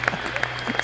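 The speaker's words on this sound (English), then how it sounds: "we got to hear some applause for that line" Crowd applause at a gathering around an extreme metal band, a steady wash of clapping with scattered louder claps and a few voices mixed in.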